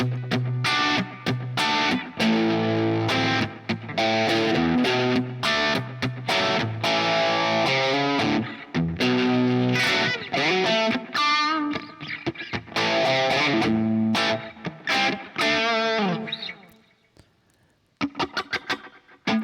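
An electric guitar with heavy distortion plays chords and riffs, loud and gritty, before trailing off and ending with a few short strums.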